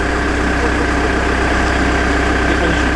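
A tracked excavator's diesel engine, which also drives the tracks and hydraulics, idles loud and close with a steady, even rumble and hum that holds unchanged throughout.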